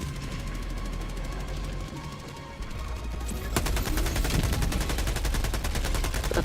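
Automatic turret fire in the video game Helldivers 2, a fast continuous rattle of shots that grows louder and denser partway through and keeps going to the end.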